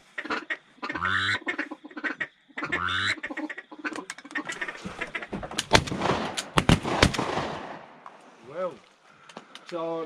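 Several sharp shotgun blasts crack out in quick succession during a duck hunt, mixed with duck quacks and calls, with hunters talking loudly before and after the shots.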